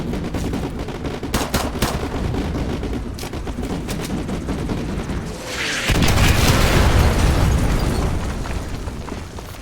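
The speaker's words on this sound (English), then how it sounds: "Artillery inbound." Artillery strike in the video game MW2 Remastered during street warfare, with dense crackling gunfire and rapid bursts building into a loud, rumbling explosion.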